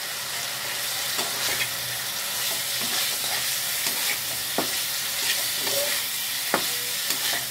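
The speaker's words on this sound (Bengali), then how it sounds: "মশলাটা ভালো করে কষিয়ে নিচ্ছি।" Fried cauliflower being stir-fried with ground spices, including black pepper and garam masala, in a pan: a steady close sizzle with occasional scrapes and clicks of a spoon, no talk.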